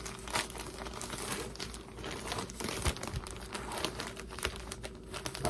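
Crinkly plastic packaging of a men's clothing delivery from a Fashion Nova or SHEIN order being opened, with steady close crumpling and rustling throughout and occasional sharper crunches, no talking.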